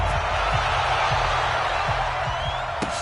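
A stadium crowd roars in a PS4 American football game, a steady dense wash of cheering from the stands with faint thuds and bursts over it throughout.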